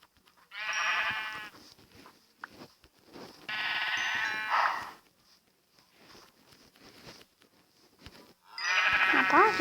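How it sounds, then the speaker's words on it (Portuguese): Several sheep bleat in a farm survival video game, loud and close, in three bursts of wavering calls with quieter gaps between them. "Rapaz, aqui tá tendo muito ovelha."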